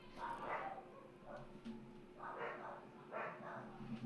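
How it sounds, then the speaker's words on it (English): Two household dogs bark from somewhere nearby, several short bursts in irregular clusters with a brief whimper-like note. They sit at moderate loudness over a steady background hum, and a voice is faintly present. "my damn dog's barking"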